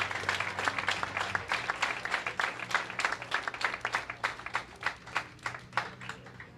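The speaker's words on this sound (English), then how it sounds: "let's give a nice round of applause for Mr. Sinello for supporting this event." Modest applause at a youth championship medal ceremony: a few distinct hands clapping in a rhythmic, fairly sparse pattern, faint and slightly distant in a large hall.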